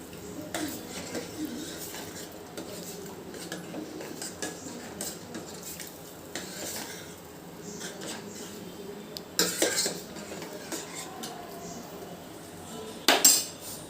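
Gram flour batter for pitla stirred in a pot, a spoon scraping and clinking against metal in steady close strokes, with a few louder knocks toward the end.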